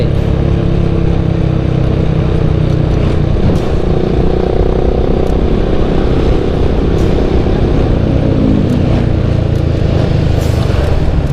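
A Honda Supra GTR motorcycle passes with a loud, continuous engine drone that holds steady over the steady road rumble of another moving motorcycle, with no voices.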